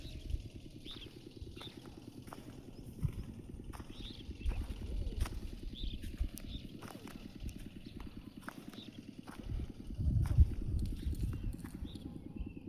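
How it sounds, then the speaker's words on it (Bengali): A horse near a village riverbank in Tangail, Bangladesh gives off a steady, faint clip-clop rhythm over a low background rumble, with occasional sharper knocks and no talking. "ঘোড়া বেঁধে রাখছে ওইদিকে, ঘাস খাইতেছে ঘোড়া"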